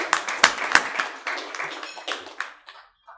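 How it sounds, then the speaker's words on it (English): Applause from an audience at the Cancom Security Awards Gala, with several sharp claps up front and steady clapping that fades out over about three seconds. "I just want to give Ron a massive round of applause for that"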